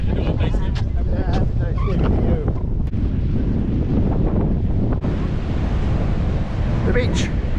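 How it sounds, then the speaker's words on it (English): Strong wind buffets the microphone over the steady roar of ocean surf on Amelia Island beach during a coastal flood warning, loud and continuous, with waves washing in close by. "A little windy."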